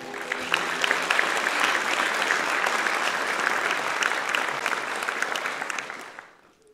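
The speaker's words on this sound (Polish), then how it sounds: "Proszę o brawa dla zespołu." Concert hall audience at a sacred music concert applauds a vocal ensemble of Katowice, a dense, even wash of clapping that holds steady and then fades out at the end.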